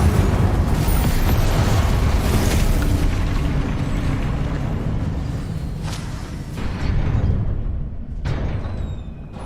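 An Incendio fire spell cast in Hogwarts Legacy: a loud, roaring burst of flame that surges and slowly fades, followed by a couple of sharper whooshing flares toward the end.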